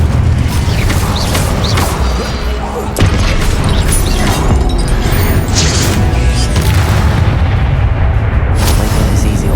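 A rumbling fiery blast of the Incendio spell in Hogwarts Legacy, with booming impacts and crackling bursts over a dense, loud backdrop of game effects, without speech.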